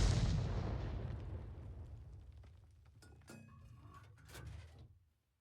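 A 105 leFH18B2 self-propelled artillery gun firing in a tank video game, a heavy boom that opens loud and rumbles off over several seconds, followed by faint mechanical clunks and game ambience.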